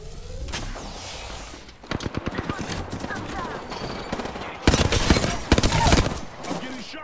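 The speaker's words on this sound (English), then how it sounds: "I'm getting shot." Video game gunfire hits the player: bursts of rapid automatic shots and heavy impacts come in dense, loud volleys, with a brief lull midway, while voices speak over the action.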